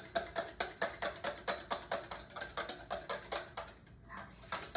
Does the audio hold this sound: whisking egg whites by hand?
yes